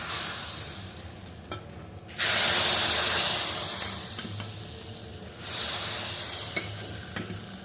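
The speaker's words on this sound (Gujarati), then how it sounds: "જીરું તતળવા માંડે એટલે આપણે ગેસ બંધ કરી દઈશું અને થોડો લીમડા આ રીતે નાખીને લીમડા ઉપર વઘાર એડ કરીશું" Cumin, asafoetida and curry leaves crackle and sizzle in hot oil as a tempering for drumstick kadhi, a steady close hiss that swells sharply twice as more goes into the pan.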